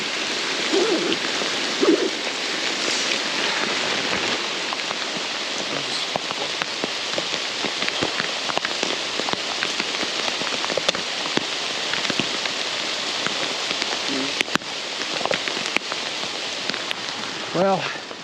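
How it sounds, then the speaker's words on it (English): Steady rain falling outdoors while fly fishing in a crowded national park, a dense, loud, unbroken hiss of drops on surfaces with scattered heavier drips close by. "just like that, the rain subsided"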